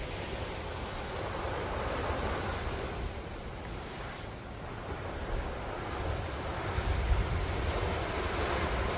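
Waves crash steadily on the shale shore of Lake Erie far below, a continuous broad wash of surf mixed with wind rumble.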